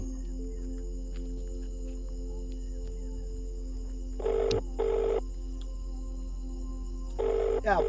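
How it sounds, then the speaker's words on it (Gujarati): A telephone rings in a Gujarati comedy sketch, three short bursts of ringing over a quiet room with a low hum. "ફોન ઉપાડો"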